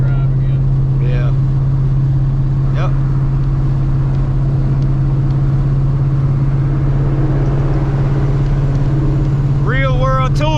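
A car fitted with a Kenne Bell 3.2 supercharger makes a loud, steady engine drone during a real-world road tuning run. Voices come in briefly near the end.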